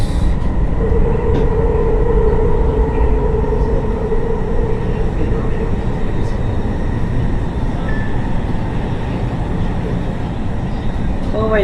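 Continuous low rumble of a metro train at a station in Riyadh, with a steady hum and faint squealing tones, heard from nearby, with a voice speaking over it.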